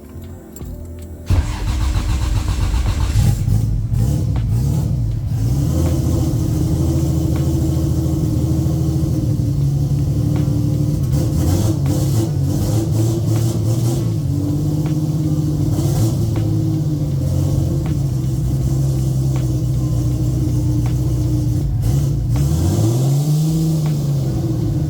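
A repaired car engine cranks and catches after about a second, then settles into a steady, close rumbling idle that holds throughout with slight wavering, with no talking over it.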